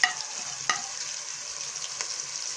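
Whole cumin seeds hitting hot oil in a pan for a mixed vegetable dish give a steady, close crackling sizzle, with a couple of sharper pops as they drop in.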